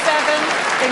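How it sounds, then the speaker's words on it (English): Snooker crowd at the Crucible applauding, a steady dense wash of clapping from many hands filling the hall, continuous and fairly loud with no talk over it. "this Crucible crowd applauding before Ding broke off"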